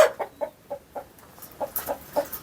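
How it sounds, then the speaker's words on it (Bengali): Native village chickens cluck in a farmyard, a string of short, sharp calls in an uneven rhythm, fairly close and clear with no talking. "দেখতে মনে হইতেছে দেশি মুরগি"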